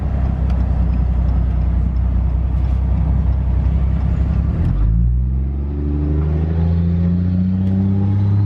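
A loud, close Cummins diesel engine in a 2nd gen truck runs roughly, then its pitch climbs in a rising whine as the turbo spools up.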